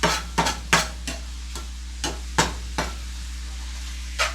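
Shrimp cooking in a pan with potatoes and andouille sausage, heard as a faint sizzle under a string of light scraping stirs or taps, about a dozen spread unevenly over a few seconds.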